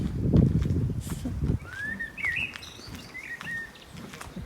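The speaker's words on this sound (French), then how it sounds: "Attends, les petits oiseaux." Small birds chirp outdoors with a few thin, whistled calls in quick succession, following a short burst of low rumbling noise.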